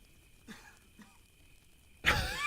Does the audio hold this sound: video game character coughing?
yes